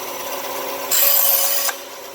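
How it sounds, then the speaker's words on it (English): A handmade pan flute pipe is sanded in one brief, bright rasping stroke of under a second, close and distinct against a quiet hum. "Better be careful sanding that one."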